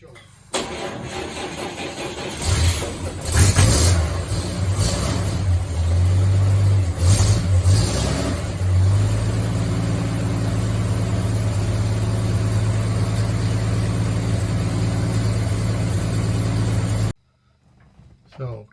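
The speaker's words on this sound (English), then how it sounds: "let's start this thing up and see if it works" 1947 GMC truck engine cranking and catching, sputtering through a few revs before settling into a steady, fairly loud idle that runs for several seconds and then cuts off abruptly.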